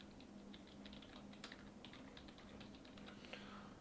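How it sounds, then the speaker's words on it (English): Quick, continuous typing on a computer keyboard while entering text in CAD software, a dense run of soft key clicks over a faint steady hum, low in level. "type in our text."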